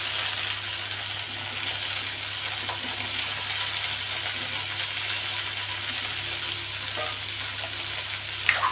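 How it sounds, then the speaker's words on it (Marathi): Cherry tomatoes and chillies roasting in a pan, a soft steady sizzle with a low hum beneath and a single sharp clink near the end, close and quiet, no talk. "आता हे टोमॅटो सुद्धा भाजून घ्यायचे"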